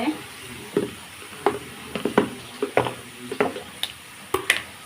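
Ginger paste frying in a pan, a steady sizzle punctuated by repeated scraping stirs of a spatula against the pan, close and fairly loud without talk.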